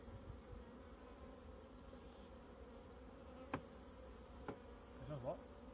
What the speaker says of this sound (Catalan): Tot ple d'abelles.